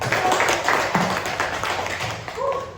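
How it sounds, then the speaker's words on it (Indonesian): A classroom full of students clapping together, a brisk dense patter of hands that stays strong throughout and fades slightly near the end. "Ya, tepuk tangan kita semua."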